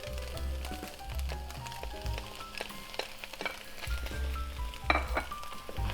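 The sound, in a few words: steak frying in a pan with vegetables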